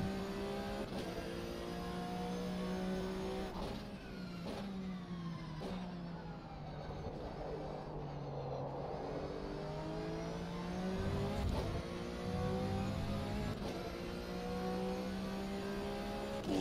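A race car engine in a racing video game drones steadily and climbs through repeated revs and gear changes, a continuous loud whine with brief dips between shifts and no voices.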